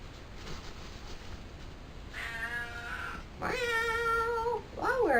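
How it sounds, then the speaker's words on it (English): A cat gives several drawn-out meows in a row, close and fairly loud, each rising and falling in pitch, with quiet room noise between them. "Yay, Tom the cat"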